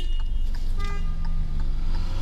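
Short car horn toots sound from nearby traffic, heard from inside a Hyundai i20 during a driving exam, over a steady low engine hum.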